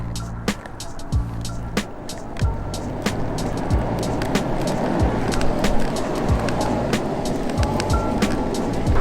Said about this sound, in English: Let's go and just cruise around in the slow mode.